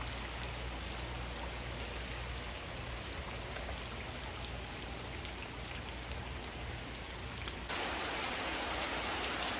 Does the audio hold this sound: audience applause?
no